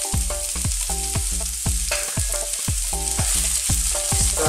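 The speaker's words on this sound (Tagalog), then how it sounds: "Stir lang po natin siya ng ilang minuto." Chopped chili and onion, added to ginger and garlic for a Filipino pumpkin and chicken dish, sizzle in a pan while a utensil stirs with rhythmic metallic scrapes and clinks, close and continuous.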